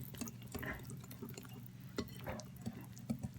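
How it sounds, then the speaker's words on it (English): Wet and dry waffle batter ingredients being mixed in a bowl, soft wet stirring and squelching with light scrapes and taps, quiet and close. "And we're going to mix that together"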